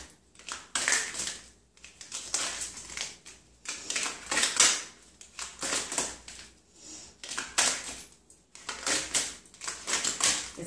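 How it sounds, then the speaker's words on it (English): A deck of tarot cards being shuffled, repeated crisp riffling bursts of card flutter in a steady rhythm, close and fairly quiet with no talking. "It's harder, there you go, to shuffle when there's not as many cards."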